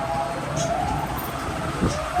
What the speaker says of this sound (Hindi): वाओ, एम्बुलेंस क्या कर रही है?